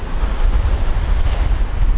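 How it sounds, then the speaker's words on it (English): Ocean surf rolls onto a sandy North Shore beach at Playa Dorada, Puerto Plata, a loud, continuous wash mixed with strong wind buffeting the microphone. "Fair number of waves."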